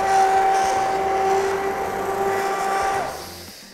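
An electric mixer whirring steadily while blending a homemade scrub, a loud continuous motor drone with a sustained tone that stops near the end.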